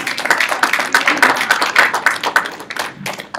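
A small group claps at a school board meeting, a short burst of distinct, uneven hand claps close by that thins out toward the end.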